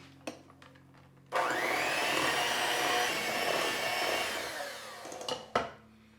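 Electric mixer whirring through persimmon cookie dough, a sudden start into a steady high motor drone with strained, shifting tone for about four seconds before stopping, with clanks of bowl handling before and after.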